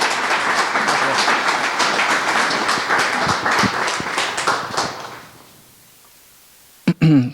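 An audience gives a doctor a welcoming round of applause at a medical-literature talk. Dense, sustained clapping fills the room, thins out and dies away after about five seconds, and a brief voice or clatter follows near the end.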